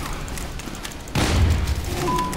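A bomb explosion in Team Fortress 2 bursts out midway as a loud low boom, then rumbles and crackles on through the rest of the clip over steady game noise.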